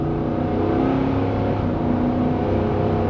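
A 2023 Ford F-250 XL single cab pickup with a 6.8L V8 pulls hard under acceleration, giving a deep, steady engine drone with strong low rumble heard from inside the cab, continuous and fairly loud with no talking.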